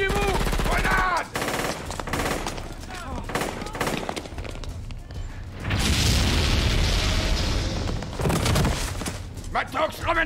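Rapid machine gun bursts and a heavy grenade blast boom through a loud action-film battle scene, with shouting voices mixed among the dense, layered gunfire and explosions.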